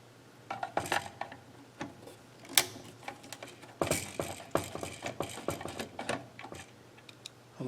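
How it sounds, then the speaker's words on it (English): Screws being undone on a Yaskawa SGDB-10ADG servopack: close, faint clicking and ratcheting taps from a screwdriver in irregular bursts, with small metallic handling noises between them. "Let's undo our screws."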